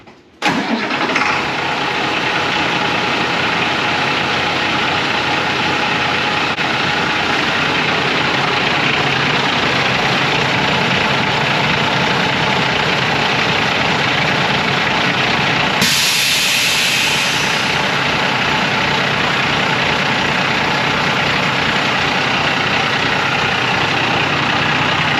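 A school bus engine cranks briefly, catches and then idles loudly and steadily close by, with a shift in tone partway through the run and no talking.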